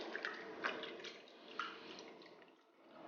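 Raw pork liver and pork fat being rinsed with salt and a little water, giving soft wet splashes and light drips at low volume, with a few slightly sharper sloshes.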